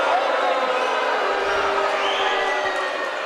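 A home crowd boos a referee's foul call at a high school state playoff basketball game, a loud, sustained roar filling the gym for several seconds with cheering mixed in.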